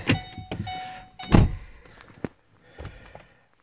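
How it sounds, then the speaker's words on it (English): A Ford car's door locks cycling, a series of quick mechanical thunks and actuator clicks, close and loud, with a short whirring tone and quieter clunks between them. "It locks and unlocks to tell us we're in programming mode."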